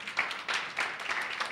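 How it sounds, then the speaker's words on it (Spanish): Scattered clapping from a small church congregation, a few brief uneven bursts of hands at moderate distance rather than full sustained applause. "¿Cuántos le dan un aplauso al Señor?"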